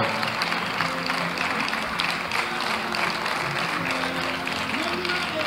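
Audience applause for the winner of the Prix de la Femme Francophone, a steady wash of clapping across the hall with a voice speaking over it throughout.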